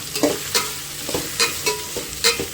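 Vegetables for vegetable rice fry in a pan with a bright sizzle, punctuated by several sharp scraping stirs of a spatula at an uneven rhythm, close and fairly loud with no voices.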